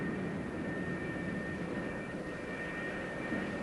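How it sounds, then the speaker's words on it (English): Several McDonnell Douglas F-4 Phantom jets taxi across a carrier flight deck, their engines giving off a steady, broad roar with a thin whine on top that holds even and loud throughout, with no voices. "another pair of Phantoms taxis up for launch"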